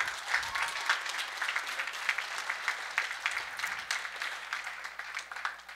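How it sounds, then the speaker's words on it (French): An audience at a high-school talent show applauds for several seconds, dense clapping with some individual claps standing out, moderately loud and steady. "Ensuite, on l'applaudit."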